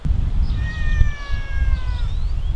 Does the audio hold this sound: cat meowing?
yes